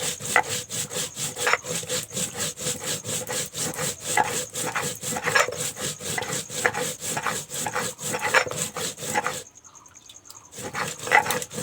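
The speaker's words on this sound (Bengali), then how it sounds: "এই দুটোকে বেটে নিচ্ছি।" Coriander and ground spices are ground into a paste by hand, likely on a grinding stone, in a fast, regular back-and-forth scraping rhythm, loud and close, pausing briefly near the end before resuming.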